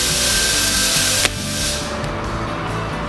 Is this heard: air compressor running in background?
yes